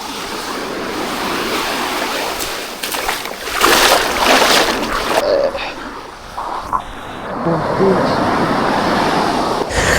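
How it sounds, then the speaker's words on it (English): Sea waves wash onto a sand beach with heavy wind buffeting the microphone, a continuous loud roaring rush that swells and ebbs. "As you can see, the sea is very nice."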